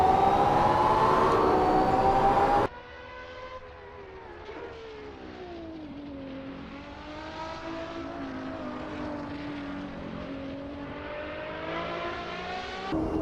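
A supercar engine howls through the gears in Assetto Corsa, a Porsche 918, McLaren P1 or Ferrari LaFerrari, rising and falling in pitch steadily after a brief louder opening burst.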